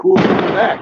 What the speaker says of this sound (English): That was another firework.